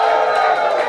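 Studio audience at a game show cheering and oohing together in a dense, loud, sustained crowd roar, close and continuous.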